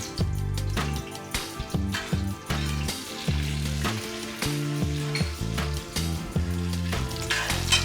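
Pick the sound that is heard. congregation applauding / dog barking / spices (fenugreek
spices (fenugreek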